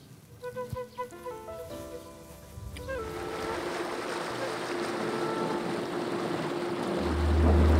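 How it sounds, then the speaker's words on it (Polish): A motorboat setting off from a marina on a lake in the Drawsko Lake District, a few soft knocks and tones giving way to a rising, steady engine and water rush that grows louder toward the end. "Tym razem jesteśmy w motorówce"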